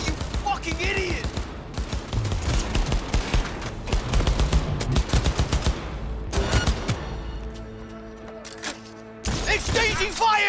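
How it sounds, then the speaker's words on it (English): Sustained gunfire exchange in Cyberpunk 2077, with dense overlapping automatic bursts and single shots throughout, a brief lull near the end before firing resumes, while voices and game sounds mix underneath. "Exchanging fire!"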